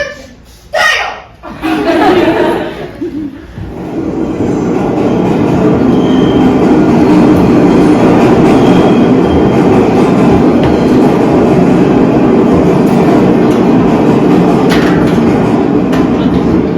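A New York subway D train rides loudly on the rails with a steady rumble and clatter that fills most of the stretch, after brief voices and chuckling near the start.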